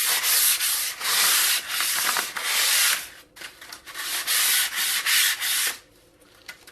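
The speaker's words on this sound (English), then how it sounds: "and just sand." A model glider wing is sanded by hand in repeated rhythmic strokes, each a loud, bright scratchy rub separated by short pauses, close up and alone.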